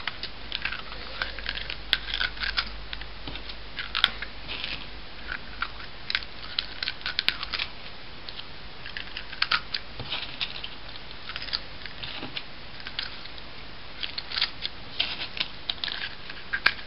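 Scissors snip small pieces of material for a homemade smoke bomb, with quiet, irregular crisp clicks and cuts scattered close by and no voices.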